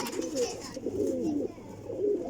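Domestic pigeons coo in a series of soft, rolling calls, close and fairly loud, with brief pauses between phrases and no speech.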